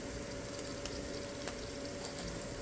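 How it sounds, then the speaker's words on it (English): Ground beef fries in olive oil with peppers for a homemade Detroit-style cheesesteak, giving a steady, even sizzle with small crackles and pops scattered throughout, close and continuous. "Now we're going to let the ground beef cook"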